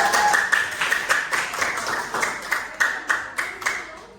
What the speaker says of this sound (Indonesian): berikan tepuk tangan untuk kelompok satu